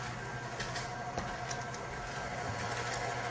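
An electric mixer runs with a steady, close mechanical hum and whir, mixing cupcake batter at an even pace with no voices.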